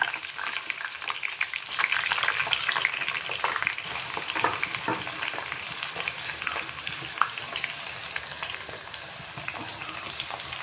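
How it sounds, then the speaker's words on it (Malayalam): Crushed herb leaves frying in hot oil while a hair oil is cooked, giving a steady, close crackling sizzle with stirring scrapes and no voices. "ഈ ചതച്ച് വെച്ച ഇലകളൊക്കെ ഇത് വാരി ഇടണം"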